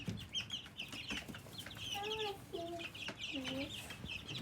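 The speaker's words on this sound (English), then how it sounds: "There's my sustainability flock and also the 9 extra egg layers that we had." A backyard flock of egg-laying chickens clucks and murmurs close by, with several drawn-out calls rising over a constant busy background of chatter and rustling.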